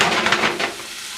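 Kimchi fried rice sizzles steadily in a hot pan with a bright, hissing wash of sound, while a few soft scraping swishes from stirring come through near the start.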